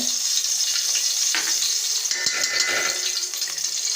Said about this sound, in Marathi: आणि हा गूळ वितळवायला टाकायचा।